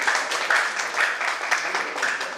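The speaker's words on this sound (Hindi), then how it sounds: "और जेनिफर के लिए एक बार फिर भरपूर तालियां।" Audience applause at a community fair event for the transgender community in Punjab, a dense, moderately loud clapping crowd with rhythmic swells, steady for the whole stretch.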